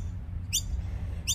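Two quick, high bird chirps about three-quarters of a second apart cut through a low steady background hum, close and bright but brief.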